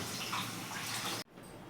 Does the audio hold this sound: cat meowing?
no